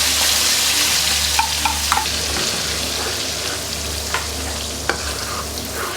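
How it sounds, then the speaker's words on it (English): Spice paste for rendang frying in hot oil, a dense close sizzle with a few scraping stirs and light knocks of a utensil against the pan. "I'm going to fry this for about 5 minutes until the oil starts separating."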